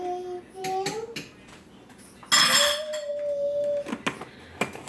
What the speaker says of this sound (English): I have minced garlic here, and I just throw in like a couple spoonfuls